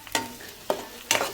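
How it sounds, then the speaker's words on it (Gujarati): Green peas with garlic and chilli are stirred in a pan with a spoon, giving three short scraping strokes over a faint sizzle. "ત્યારબાદ આપણે તેની અંદર લીલા વટાણા નાખી દઈશું અને તેને ચમચા વડે હલાવી અને વ્યવસ્થિત મિક્સ કરી નાખશું."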